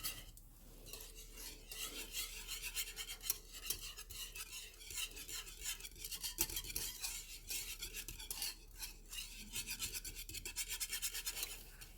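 Filling for a coconut banana cream pie is mixed until it melts, giving a continuous, fairly quiet rasping scrape of a utensil working around a bowl.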